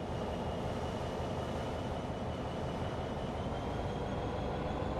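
A Class 66 freight locomotive with empty wagons in a train simulator game pulls away after its brakes release, a steady dense rumble of engine and rolling stock holding at an even, fairly loud level throughout.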